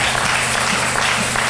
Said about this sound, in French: on peut manifester notre joie par des acclamations